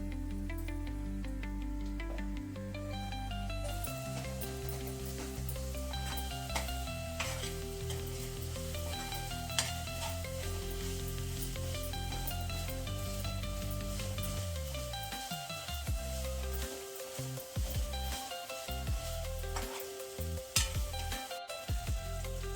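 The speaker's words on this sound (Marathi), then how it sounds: "आपला कांदा टमाटा झालेला आहे, मी पेस्ट टाकते." Onion-tomato masala paste for a cluster beans masala sizzles and fries in a pan, a loud, dense, continuous crackle that runs for the whole stretch with some stirring, and no voices.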